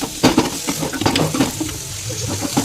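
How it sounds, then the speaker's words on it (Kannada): Mustard seeds and cumin frying in a pan over a gas flame, a steady close sizzle with crackling pops and occasional scraping stirs, loud and continuous with no voices. "ಚೆನ್ನಾಗಿ ಫ್ರೈ ಮಾಡ್ಕೋಬೇಕು."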